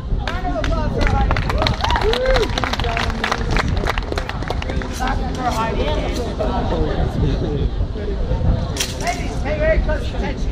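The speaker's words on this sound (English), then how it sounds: "Round of applause for Heidi." Comedy show audience at a London freak show breaking into applause and crowd noise, loud and sustained throughout, with a performer's voice and hubbub mixed in.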